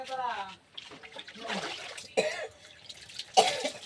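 A few short, harsh coughs break up nearby, with splashing water and brief voices between them.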